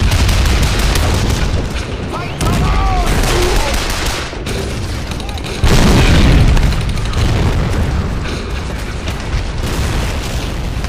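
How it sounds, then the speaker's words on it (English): A rocket artillery barrage in the war game Men of War: Barbarossa, heard as loud, continuous rumbling booms and overlapping blasts that swell and roll for the whole stretch. "So my rocket barrage is proving quite useful here."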